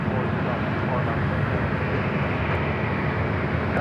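A Starlux airliner arriving at Los Angeles International Airport, a steady broadband jet roar that stays loud and continuous throughout, heard from an outdoor spotting position.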